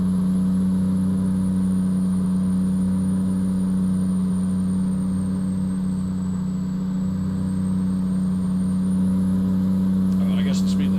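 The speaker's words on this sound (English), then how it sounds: "You'll hear the same whine on that truck. It's unique to the Kenworth trucks." A Kenworth truck engine drones steadily while driving, a strong low hum with a thin high whine sliding slightly in pitch above it, loud and continuous from inside the cab, with a voice briefly under it.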